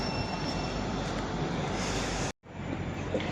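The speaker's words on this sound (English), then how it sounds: "there's a pair of Voyagers leaving for Holyhead" A pair of Voyager trains pulling out of Crewe station, bound for Holyhead: a continuous loud rail rumble with wheel noise and faint squeal, broken by a brief dropout before resuming, and no speech.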